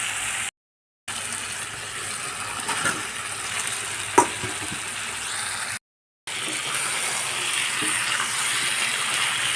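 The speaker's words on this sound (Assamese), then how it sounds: "আৰু এইফালে মাংস ভাজিয়ে আছোঁ।" Broiler chicken meat fries in a pan with a steady, close sizzle and occasional stirring scrapes, briefly cut by two short gaps of silence.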